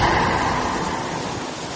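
Ocean waves at Dumas Beach wash in as a loud, steady broadband roar of surf, a continuous rushing hiss with no distinct breaks and no voices.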